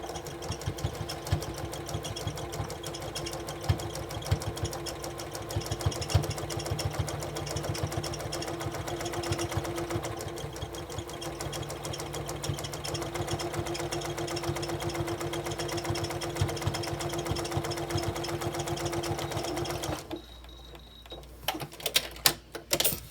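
A sewing machine stitches a strip of t-shirt fabric onto the back of a memory pillow. The motor whirs steadily with a fast, even needle chatter for about twenty seconds, then stops, leaving a few faint handling knocks.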